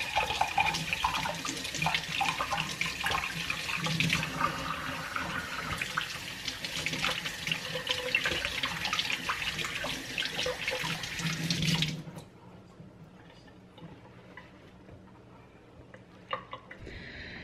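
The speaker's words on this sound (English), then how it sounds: "I'm rinsing my peppers off" Peppers are rinsed under a running kitchen tap, a steady loud splash of water into the sink that carries on for about twelve seconds before the flow stops and only faint quiet handling noises remain.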